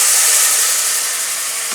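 A hot spice tempering hitting dal, giving a loud, continuous sharp hiss that stays steady and close throughout, with no voices.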